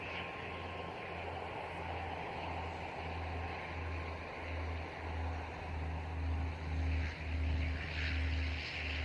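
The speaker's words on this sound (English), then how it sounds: "NZ849, another dash 8 coming in from Nelson." A Dash 8 turboprop arriving at Christchurch from Nelson gives off a low, pulsing propeller drone with a steady engine whine, moderately distant and alone without talk.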